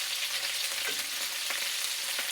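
Potatoes frying in a pan, Southern-style, give a steady dense sizzle with a few soft scrapes or stirs breaking through; close and continuous, no voices.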